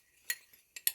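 A spoon stirs Himalayan salt into homemade leek and golden beet soup, giving a few brief, faint metallic clinks against the pot.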